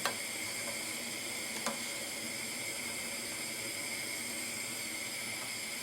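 Red sarcoscypha cup mushrooms simmer in a pot of water on the stove, giving a steady, even hiss of boiling with a couple of faint pops near the start.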